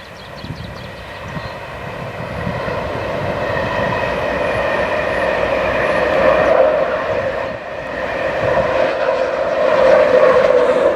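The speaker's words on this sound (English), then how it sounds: "that was a 1600 Edinburgh to King's Cross. It's not stopping at Alnmouth." A 1600 Edinburgh to King's Cross passenger train crosses the Alnmouth viaduct without stopping, producing a loud, sustained rumble with steady wheel and rail noise that swells as it passes close by.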